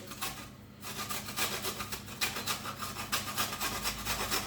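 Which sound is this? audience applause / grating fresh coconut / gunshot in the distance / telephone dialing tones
grating fresh coconut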